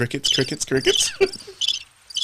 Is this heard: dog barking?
no